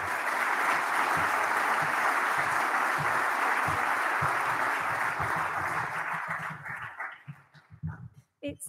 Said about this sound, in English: You can give her a round of applause as well if you wish.